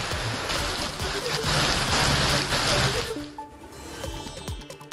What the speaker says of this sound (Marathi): वसई विरार आणि नालासोपारा परिसरामध्ये जोरदार पाऊस